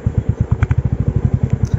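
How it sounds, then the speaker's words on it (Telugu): A Royal Enfield Bullet motorcycle idles up close, its engine thumping out a loud, even, rapid single-cylinder beat with no voices. "మీరు నా బుల్లెట్ బైక్ ఒక బీట్ అయితే చూడొచ్చు, ఎక్సలెంట్గా వస్తుంది"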